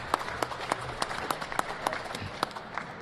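Applause from the audience at a boxing press conference on the Gold Coast, a steady patter of clapping with distinct sharp claps standing out, moderately close, and no talk over it.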